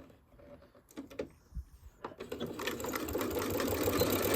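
A sewing machine stitches a fabric door latch cover, starting with a few short stop-start bursts and clicks, then running continuously in a fast close mechanical whir.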